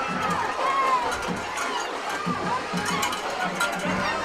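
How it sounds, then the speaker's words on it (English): A high school football crowd in the stands at Shelbyville, during a home game against Tullahoma, makes a steady wash of noise with scattered voices and shouts throughout. "Scoop and score for the Golden Eagles has set this crowd alive here in Shelbyville."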